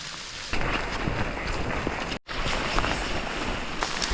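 Heavy, steady torrential rain pours down around hikers on a river trip, a dense broadband hiss with pattering drops close by, briefly cut off for an instant midway before resuming at full strength.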